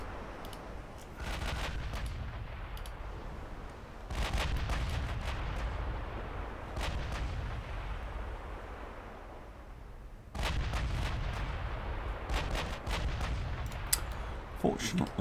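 Naval gunfire and explosions in a video game sea battle against a French fleet, with a flash fire on a ship's A turret: repeated loud booming blasts that roll on as a dense barrage, with fresh volleys near the start, middle and end.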